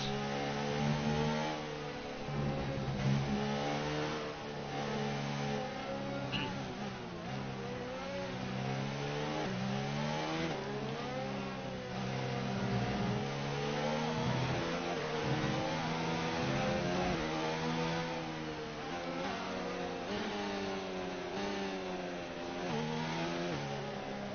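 A Formula 1 car engine in the racing game F1 2019, a continuous high-pitched whine that climbs and drops repeatedly through gear changes while lapping, loud and unbroken with no talk.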